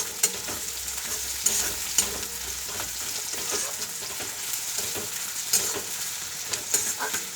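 Chopped onion with green chillies sizzles steadily in a hot pan, with repeated scraping and stirring clicks from a spatula over the continuous frying hiss.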